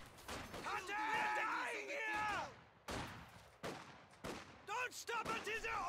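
Machine gun fire from an MG in the World War II strategy game Company of Heroes 2, with repeated bursts of gunfire and shots heard alongside battle noise and a voice talking over the action throughout.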